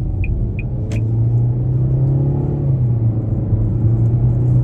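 A 2023 Nissan Altima SR accelerating at about a third throttle, giving a steady low engine rumble that rises slightly in pitch and stays smooth and continuous from inside the cabin, with a couple of faint clicks early on.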